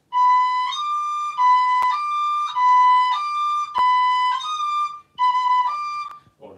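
A tin whistle plays a short melodic phrase alone, clear sustained notes with brief gaps between, repeated in a steady rhythm and ending with a quick final note.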